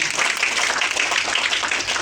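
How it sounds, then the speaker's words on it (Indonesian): A seminar audience claps together, a dense steady wash of applause filling the whole stretch at fairly high level, with faint voices mixed in. "Tepuk tangan dulu."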